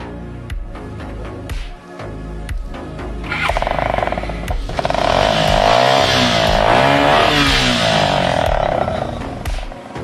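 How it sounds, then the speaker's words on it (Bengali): A motorcycle fitted with a modified silencer starts up and revs, its loud, throaty engine note swelling and holding steady close by after a few sharp bursts, with no talk over it. "আপনার গাড়িটা একটু স্টার্ট দেন তো।"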